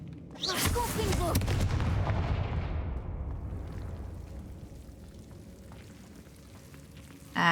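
A Confringo fire spell blast in Hogwarts Legacy, a video game, lands as one loud burst that booms and crackles, then rumbles and fades over several seconds, with soft game ambience left behind.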